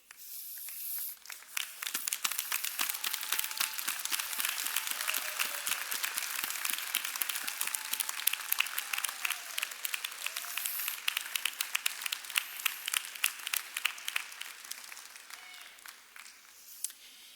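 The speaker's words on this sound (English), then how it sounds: "offer a round of applause for all your supporters here today" At a 2019 university School of Public Health and Health Professions commencement, standing graduates applaud their families and supporters: a long, even wash of dense clapping from a large crowd in a big hall, sustained for many seconds.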